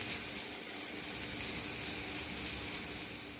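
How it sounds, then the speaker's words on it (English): Onions and garlic sautéing in a pan, a soft, even sizzle and hiss that stays constant and faint throughout with a few tiny pops. "So our vegetables our onions rather, and garlic is cooking away."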